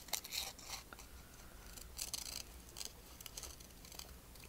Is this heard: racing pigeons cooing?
no